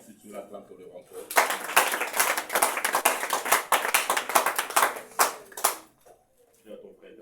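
A small group of people clapping, with a steady run of sharp close handclaps that swells for several seconds and then fades out, voices talking quietly before and after.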